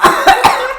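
Three quick, harsh coughs in a row, loud and close, each a short raspy burst.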